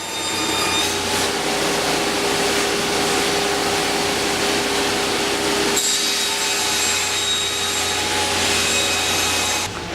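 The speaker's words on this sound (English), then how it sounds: "then they go through the edge grinder. Sharpens the edges, gets them ready to go." An edge grinder sharpening the steel edges of skis in a factory gives a continuous loud abrasive grinding with steady mechanical whine, briefly dipping mid-way before resuming, close and without voices.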